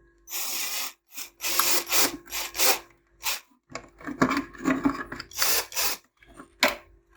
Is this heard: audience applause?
no